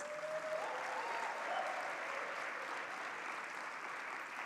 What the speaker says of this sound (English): Can we give them a loud round of applause?